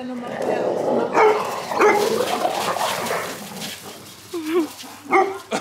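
A dog whimpers and gives short high yips and whines indoors, the cries rising near the end, while people talk over it throughout.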